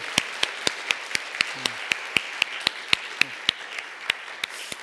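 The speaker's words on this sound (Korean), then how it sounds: "수고하셨는데 우리 미디어 팀들에게 한번 박수로" A church congregation claps for its media team at the close of a Sunday service, a steady, evenly spaced run of sharp individual claps over a soft wash of broader applause, with a brief voice underneath.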